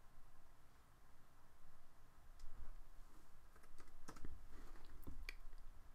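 Someone types on a computer keyboard while drafting in AutoCAD: scattered, close key taps and a few quick bursts of clicks sit over a soft background hiss.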